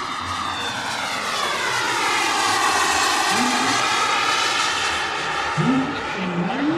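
A radio-controlled scale model of a Pilatus PC-24 twin-turbine business jet roars steadily at Meiringen Airport on takeoff, with a loud, sustained turbine whine over a broad rushing noise and a few rising and falling tonal swoops near the end.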